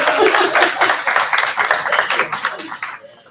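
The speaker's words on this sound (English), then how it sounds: "give yourselves a round of applause for being from Harlem" Audience at a Harlem small-business banking event claps together, a dense burst of applause that gradually thins and fades out over a few seconds.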